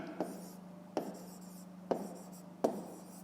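Pen tapping and scratching on paper while writing out a fifth-grade math solution, four crisp, evenly spaced strokes close up over a steady low hum, with no voice.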